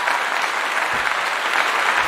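A steady, dense patter of applause plays continuously at even loudness, like a sound-effect cheer given to a livestream viewer, with no voices over it.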